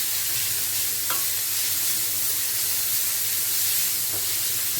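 Onions fry in a pan and are stirred, making a loud, continuous close sizzle. One or two faint scraping touches sit under it, and no one speaks.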